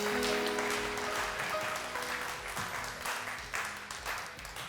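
A studio audience at a televised Ramadan debate show bursts into dense, sustained applause, many hands clapping together loudly for several seconds with a faint voice underneath.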